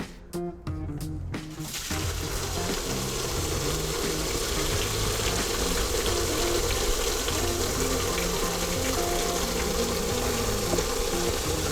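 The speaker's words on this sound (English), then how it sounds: "we're just going to release all the water and the mild agent that's been cleaning the barrels" Water gushes steadily from whisky barrels after the plug is pulled, draining cleaning water and a mild cleaning agent in a continuous loud rush, preceded by a few brief knocks at the start.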